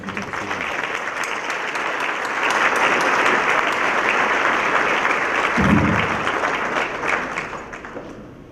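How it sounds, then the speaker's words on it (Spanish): Audience at a Mexican steel industry panel applauding the commission, sustained clapping that swells in the middle and fades toward the end, with a brief low thump partway through. "les demos un aplauso a nuestra comisión"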